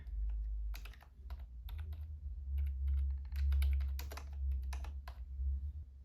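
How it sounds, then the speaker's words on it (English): Text typed on a computer keyboard: quick, irregular bursts of light, close key clicks over a low background hum, with short pauses between words. "I'm going to type in a text I would like on my shirt"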